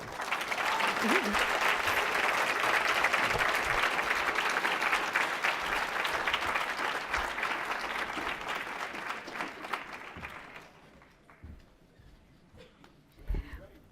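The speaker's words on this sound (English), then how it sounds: "we need another round of applause for our keynote speaker" Applause from the audience after a keynote speech at a graduation celebration, a loud and dense sustained clapping that dies away near the end, leaving faint room noise and a brief thump.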